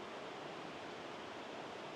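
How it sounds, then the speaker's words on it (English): A creek's rushing river water flows steadily and close by, a continuous broadband wash with no pauses and no talking over it. "You can probably hear the river right next to me."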